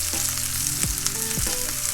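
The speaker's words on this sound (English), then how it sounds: "Fry our onion and just let it fry for a little bit." Onion frying in a pan, a steady close sizzle with a couple of brief knocks of a utensil.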